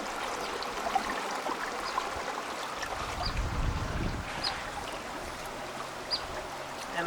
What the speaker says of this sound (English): Here's where the water flows into the gate.